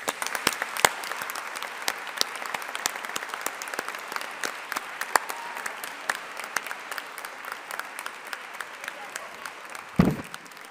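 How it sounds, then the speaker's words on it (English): At a university graduation ceremony for the Faculty of Humanities and Social Sciences, the audience applauds family and supporters. The clapping is scattered and fairly soft, with distinct individual claps at a moderate distance, and a brief low thump near the end. "let us take a moment to acknowledge and applaud them for the support they've given you"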